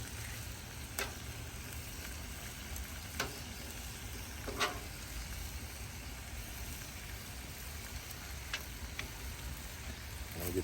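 Korean-style LA beef ribs sizzle steadily in a hot pan while being flipped, a dense, even crackle with a few sharp clicks and taps from turning the meat, continuous and fairly close with no talking.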